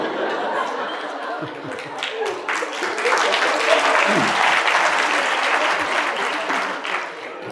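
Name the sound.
audience applause at a university lecture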